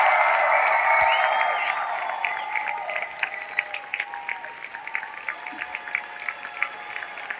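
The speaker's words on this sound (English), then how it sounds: "So if we can all give a huge, huge round of applause." Crowd applause and cheering from a convention stage audience at Star Wars Celebration Europe 2023, loud at first under a bright tonal music bed, then thinning into scattered claps over the last seconds.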